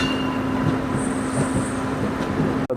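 Uday Express double-decker coaches roll along the rails with a steady, continuous rumble and hiss, close and loud, carrying a faint high whine midway and a brief dropout near the end.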